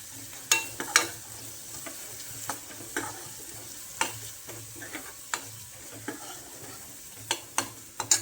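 Chicken coated in a coconut and garlic masala fries in a pan while a spatula stirs it, giving a steady soft sizzle broken by sharp scraping clicks and taps at an uneven pace, close by with no voices.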